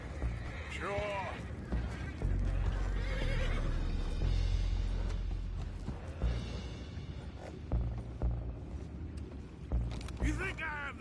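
Horses neigh and whinny in the Red Dead Redemption 2 video game, several rising calls near the start and end over a dense, loud background of game ambience, creaks and mechanical noise, with voices speaking.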